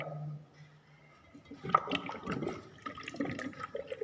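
Water pouring and splashing through a Pythagoras theorem water model in a mathematics lab, a steady liquid flow with bubbling and trickling that grows busier after the first second.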